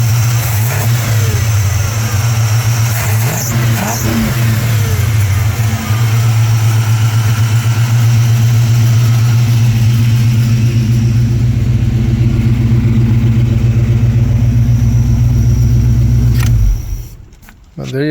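Chevy V8 fitted with a new ignition coil revs loudly and steadily for about sixteen seconds, a deep continuous engine roar close by that cuts off abruptly near the end.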